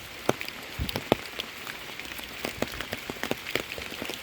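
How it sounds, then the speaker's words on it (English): Rain falls steadily on hard surfaces during a rainy morning walk, a soft hiss broken by irregular, close drops and patters with no talking. "the rain has picked up"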